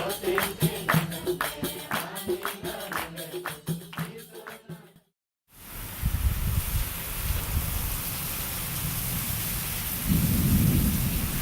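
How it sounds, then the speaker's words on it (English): Heavy afternoon thunderstorm in a hot region: dense rain pounds steadily, a brief gap falls silent, then rolling thunder rumbles low and loud under the continuing downpour. "so an afternoon thunderstorm means a cooler day"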